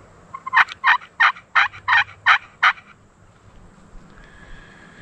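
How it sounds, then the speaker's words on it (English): A wild turkey gobbling in answer to a box-style turkey call in spring woods: seven quick, rattling gobble bursts in a row, clear and moderately near, followed by quiet outdoor background. "Let's see if we can get that turkey to gobble again."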